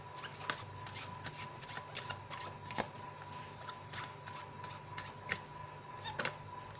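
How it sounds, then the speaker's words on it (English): A deck of tarot cards is shuffled close by in a run of quick, crisp riffling flutters and soft taps, repeating steadily for several seconds with no talking. "let me pull out the cards from this deck for you"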